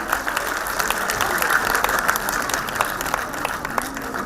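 Hearty applause at a Tamil literary society's children's award ceremony as a child and parents receive a prize, even continuous clapping from the hall with a faint voice beneath it.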